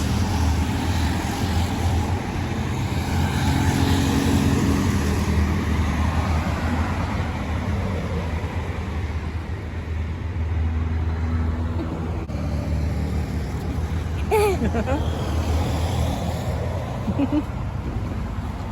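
Traffic at a bus stop in the United Arab Emirates, a steady broad rumble of passing vehicles with low engine drone throughout and a faint voice near the end.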